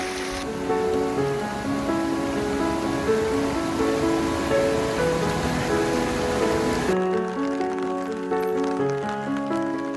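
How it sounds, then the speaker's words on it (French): Heavy mountain rain pours steadily onto surfaces on the GR 738 trail in the Belledonne range, French Alps, a dense continuous hiss with music-like tones running underneath until it cuts off near the end. "Il pleut comme je sais pas quoi, on est trempé."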